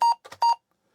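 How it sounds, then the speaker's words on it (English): An Apple II computer sounds its error beep after a failed disk boot: two short, bright tonal beeps, a rougher burst between them, then silence. "and it gives us that beep"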